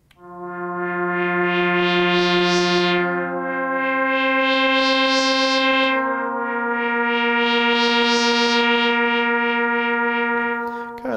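Web synthesiser pad sound with reverb, sustained held chords swelling and fading in three long overlapping phrases, loud and smooth with a bright shimmering top and no talk.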